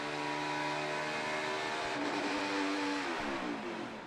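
A NASCAR race car engine at Pocono screams at very high revs after a botched shift from third into second gear, a sustained loud whine with rising harmonic tones and no talk over it.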